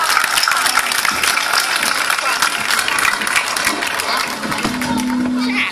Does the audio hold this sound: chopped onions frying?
no